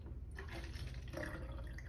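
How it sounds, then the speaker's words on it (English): Water is poured into a bottle in a kitchen, giving a faint, trickling, gurgling fill sound that runs steadily and quietly with no voices. "So I'm pouring it into this bottle"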